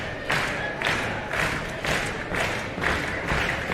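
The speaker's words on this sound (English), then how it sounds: "Crowd coming to life, getting behind Billy Brash now" A wrestling crowd at a live title match cheers and chants in rhythmic, swelling bursts, loud and steady throughout.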